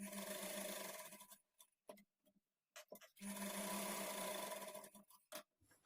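A sewing machine stitches a lined blouse in quiet bursts, running for a second or two, pausing with a few light clicks, then running again steadily, close and soft.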